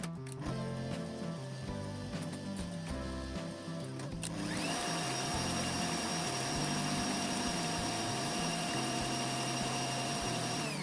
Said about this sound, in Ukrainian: Міксером змішуємо 4 яйця.